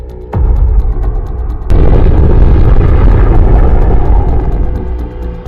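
Fat Man atomic bomb airburst over Japan in 1945: a sharp onset followed by a second, louder blast that swells into a sustained, dense low rumble lasting several seconds before slowly easing.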